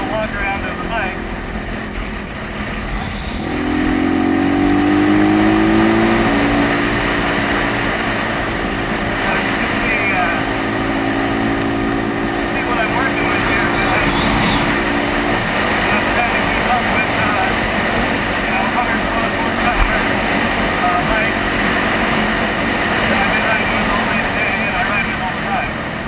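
A Kawasaki KLX250SF motorcycle is ridden at a steady pace. Its engine drones over constant wind roar, and the pitch rises and shifts as it works through gears.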